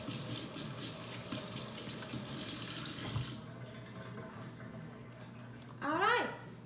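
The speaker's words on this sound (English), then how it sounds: "wash my hands." Tap water runs steadily into a sink while hands are washed for about three seconds. The flow then cuts off, leaving a quieter room with a short splash near the end. A voice is faintly audible during part of it.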